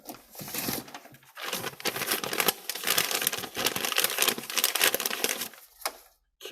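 Paper crumpled and crinkled close to a microphone, a busy crackling stretch of dense rustling bursts that drops away briefly near the end.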